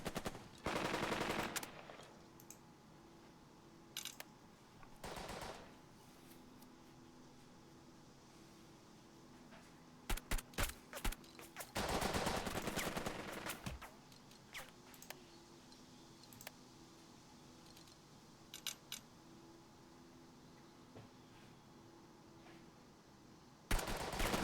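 Gunfire in the wartime strategy game Burden of Command: sporadic bursts of rapid machine-gun rattle and single shots, some long volleys and some brief cracks, separated by quieter stretches of low background hum.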